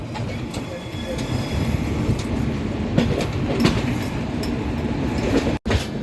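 Prasanti Express passenger train running steadily, a continuous loud rumble of wheels on track with faint rhythmic clacks and brief squeals, heard from inside the carriage.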